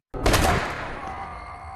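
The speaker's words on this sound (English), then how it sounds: "He shot Drake dead before the gang leader could strike Ryan." Single gunshot in an action movie scene, a sharp loud crack that starts abruptly after a moment of silence and then decays into a lingering, ringing tail.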